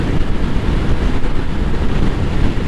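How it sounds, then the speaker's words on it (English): Headwind rushes hard over a Suzuki DR650 motorcycle rider cruising at about 55, a loud, constant buffeting roar against the microphone with no break. "I'm in a headwind"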